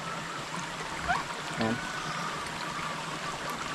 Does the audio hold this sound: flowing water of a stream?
yes